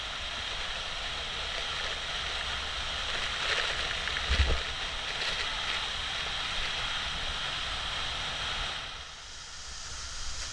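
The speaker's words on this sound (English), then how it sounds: "Going to cross one more time a part of the waterfall." A waterfall at Waku Lodge in Venezuela, heard from a hike behind the falls, gives off a constant close rushing roar. A soft thump sounds midway.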